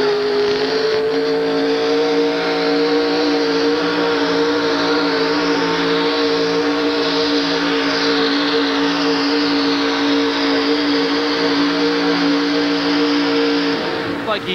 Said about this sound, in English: Bobby just nailed the throttle off the starting line.